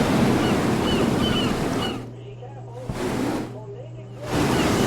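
Ocean waves heard from a distance, a steady broad rushing wash that drops away twice to near quiet before swelling back, with a low hum underneath during the lulls.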